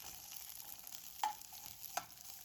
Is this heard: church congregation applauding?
no